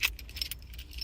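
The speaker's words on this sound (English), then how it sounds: "I'll just show you my keys." Keys on a keychain that also holds pepper spray, jangling in a short burst of close, bright metallic clinks, with a quick rattle at the start and scattered lighter jingles after it, and no talk.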